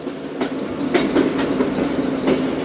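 The 08 Down Tezgam express, back in service after five months, runs steadily on the rails with a continuous rumble and rhythmic clickety-clack of wheels over joints, heard from on board.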